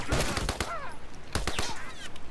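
Gunfire in the game The Last of Us erupts in two clusters of sharp shots, a quick burst early and another volley about a second later, with faint whistling and screeching between them.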